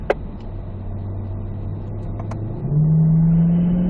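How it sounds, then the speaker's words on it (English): A C8 Corvette engine drones steadily on a race track, then revs up sharply as it accelerates, its pitch climbing and staying loud and close to the end. "folks, we will go ahead and accelerate here."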